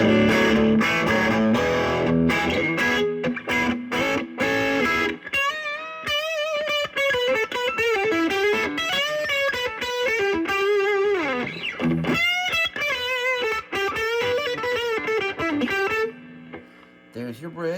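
An electric guitar fitted with Wilkinson M Series Telecaster pickups plays through heavy distortion, opening with chunky strummed chords and then sustained singing lead notes with bends, loud and close, ending abruptly.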